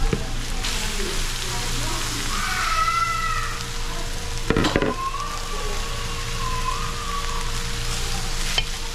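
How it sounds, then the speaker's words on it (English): Rice added to a hot pan and stir-fried during a Trinidadian Sunday lunch, a continuous sizzle with spatula scrapes and a sharp clatter midway, while a faint high whine drifts through the background. "I'm going to add in the rice now too"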